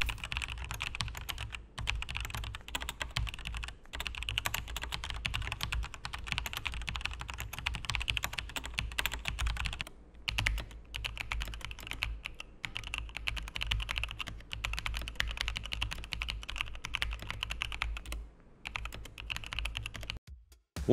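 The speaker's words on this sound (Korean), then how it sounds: "요즘 GX 스위치 정말 좋은 타건감입니다" Steady, fast typing on a Logitech G715 wireless mechanical gaming keyboard fitted with GX switches, a close, continuous run of crisp clacks with brief pauses and no talking.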